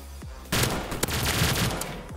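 Dense, sustained automatic gunfire from Call of Duty Black Ops 3 Zombies on a Super Mario Bros map, erupting after a brief quiet start into a loud, continuous rattle of shots with one sharper crack near the middle.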